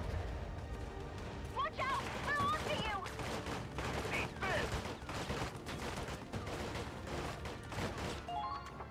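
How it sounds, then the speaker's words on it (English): Rapid gunfire crackles in a bursty fusillade in the video game Valkyria Chronicles 4, with game voices and sound effects layered over it throughout. "Who's shooting at me?"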